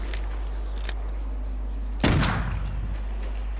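A single loud gunshot blast in the Clive Barker's Undying video game, a sharp crack around two seconds in after quiet ambient hum, with brief clicks earlier.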